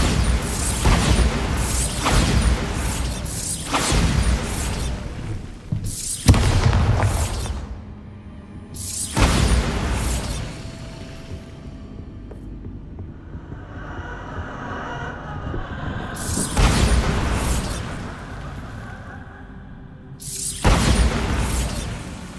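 Bombarda spell blasts in Hogwarts Legacy, several loud booming explosion bursts spaced through the scene, with rumbling decays and quieter eerie ambience between them.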